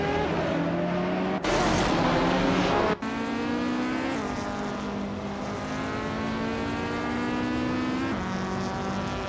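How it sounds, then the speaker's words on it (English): A 2014 Norma M20 FC prototype race car in a racing video game screams along with a high whining engine, a sudden louder roar burst, then steady revving with pitch shifts between gears. "The Dreamkeeper is driving a 2014 Norma M20 FC"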